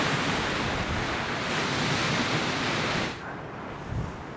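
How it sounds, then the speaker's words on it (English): Strong, gusting wind buffets an exposed mountaintop campsite on Monument Peak beside a VW bus, a loud steady roar that suddenly drops off near the end as if shut out. "it does get windy up here"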